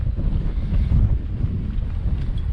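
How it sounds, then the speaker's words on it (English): Gusting wind buffets a microphone fitted with a wind protector beside a river, low rumbling in uneven bursts for a few seconds, with no talking. "I do apologise if there's a bit of wind"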